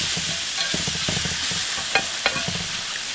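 Bacon gravy of bacon grease and flour being stirred in a frying pan, a soft continuous sizzle with repeated scraping strokes of the utensil and a couple of sharper clicks against the pan, heard close and without talk.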